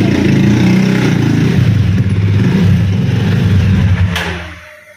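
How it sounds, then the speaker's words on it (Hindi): A vehicle engine close by drones loudly and revs unevenly while being parked, then fades away toward the end. "बहुत शोर मचाती है गाड़ी"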